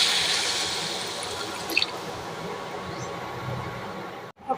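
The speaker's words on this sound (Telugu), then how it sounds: "ఒక గ్లాస్ వాటర్ పోసేసుకుందాం." A glass of water poured into a hot pan of cauliflower curry, a loud rushing hiss that gradually fades, with a couple of brief splashy bursts near the end and no talk.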